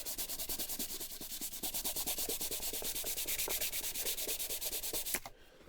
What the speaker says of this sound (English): I'm going to have to go back over it now to sand it, to clean it up a bit